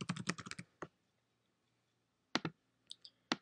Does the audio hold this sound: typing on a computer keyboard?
yes